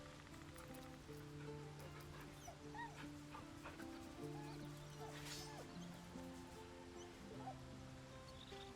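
A dog in the video game Baldur's Gate 3 gives a few soft whimpers and short whines, fairly faint beneath sustained game music and a pattering rain ambience.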